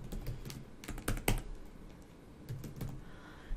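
Quick clatter of keys on a computer keyboard as a search word is typed, a few short bursts of crisp taps with brief pauses between them, close and fairly quiet.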